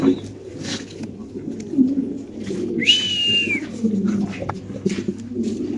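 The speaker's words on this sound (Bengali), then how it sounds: "কালো স্প্যানিশ কবুতর ভাই, একটু মাদিরে নামান তো ভাই ডিমের থেকে।" Black Spanish pigeons cooing softly in a pigeon farm, low murmurs under a busy room with a brief whistle-like note partway through.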